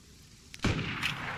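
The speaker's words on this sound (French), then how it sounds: "C'est moi qui ai tiré" In the video game DayZ the player fires a single loud gunshot, a sharp crack with a booming tail that rings out after a brief quiet lead-in.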